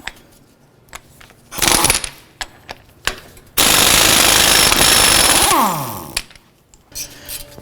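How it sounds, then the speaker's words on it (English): Jeep Wrangler (2007–2017) front axle nut being broken loose with a 35mm socket: a loud, sustained two-second burst of rapid impact-wrench hammering, framed by scattered clicks and clanks of tools on metal. "I'm going to use a 35mm and remove the axle nut"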